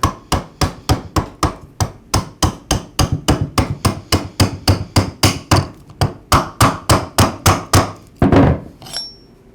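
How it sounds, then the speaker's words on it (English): Metal tubing slid over a Ryobi string trimmer's lower flexible driveshaft is tapped repeatedly to seat a retainer, a close, loud, even series of about thirty sharp metallic knocks, ending with a brief clatter. "I slide the tubing over the shaft and then tap the retainer into place"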